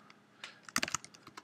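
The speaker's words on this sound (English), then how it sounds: "Sorry about my typing here." Brief burst of typing on a computer keyboard, a quick cluster of sharp key clicks with a few scattered taps, close and fairly quiet.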